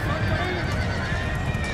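A horse whinnies amid battle ambience in the strategy game Empire: Total War, a sustained neigh over a steady noisy background with possible hoof clatter, while someone talks over it.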